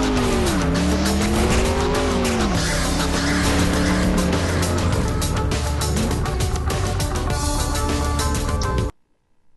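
Cars racing in the PC game Clutch: loud engine roar with tires squealing and skidding in long sliding whines, continuous for about nine seconds before cutting off abruptly.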